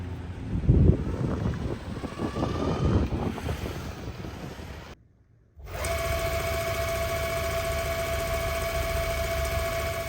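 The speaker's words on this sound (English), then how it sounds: "at full throttle, the motors are significantly quieter than other belt-driven boards that I've tested." Belt-driven motors of an Excruiser electric all-terrain board running at full throttle, a steady even whine with tonal hum that holds for several seconds, along with wind noise from riding; a short gap breaks the sound about halfway through.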